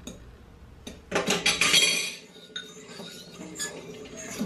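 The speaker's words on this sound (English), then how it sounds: "All right, can you whisk it?" Whisking in a bowl in a home kitchen, a burst of quick metallic clinks and scraping from a whisk against the bowl, close and fairly loud, easing into lighter scattered taps.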